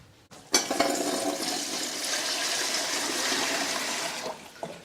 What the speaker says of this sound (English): I'm going to get hot tap water to put in here